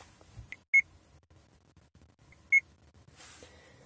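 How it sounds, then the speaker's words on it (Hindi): Two short electronic beeps from a Tata Tigor 2017 infotainment system as Bluetooth connects, spaced about two seconds apart, clear and close over a quiet cabin with faint rustling. "अभी ब्लूटूथ भी कनेक्ट कर लेते हैं हम एक बार, ये बीप साउंड करेगा 2 बार"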